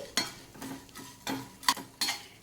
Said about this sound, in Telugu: పప్పులు ఎప్పుడైనా సిమ్లో పెట్టుకొని వేయించుకోవాలి